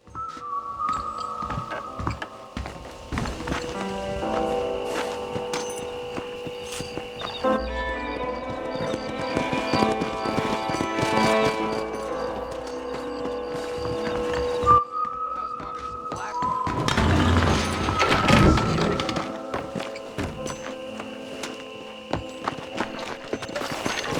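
Horse hooves clip-clopping in the Red Dead Redemption video game, a steady rhythmic trot under game music and ambience, with occasional whinnies and a brief pause in the middle.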